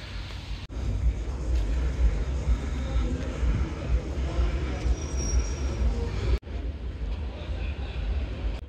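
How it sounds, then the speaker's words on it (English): Special train carrying away football fans pulls in at a station before a GKS Katowice versus Pogoń Szczecin match: a steady loud rumble of rolling wagons with faint wheel squeal, broken by two sharp cuts. "They came by a special train."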